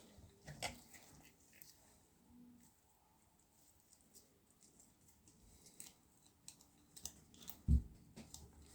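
Quiet, scattered snips and cracks from scissors cutting through crab leg shell, with one sharp louder snap near the end.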